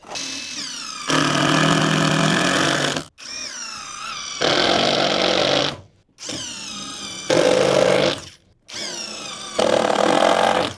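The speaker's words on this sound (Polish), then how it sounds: "Do tego celu użyjemy wkrętów 5×80." A power drill drives 5x80 screws into timber battens while a bus is converted into a camper, in four loud bursts of rising whine and grinding, each a couple of seconds long, with short pauses between.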